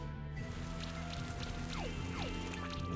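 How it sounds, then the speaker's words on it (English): Acid Rain skill effect from the video game Monster Sanctuary: a steady hiss of pattering, rain-like droplets over a constant layer of game music, with a few quick descending sweeps partway through. "start another Acid Rain."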